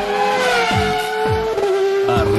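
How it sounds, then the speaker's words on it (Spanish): Racing car engines rev in quick succession as a radio show intro effect, loud close whining tones with rising pitch sweeps and repeated gear-shift drops, a fast punchy burst. "Los motores están encendidos."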